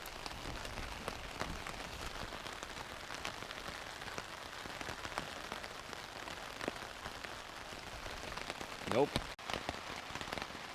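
Heavy rain drums steadily on a tent and tarp at a canoe campsite in Algonquin Park, a dense, constant patter with a brief voice near the end.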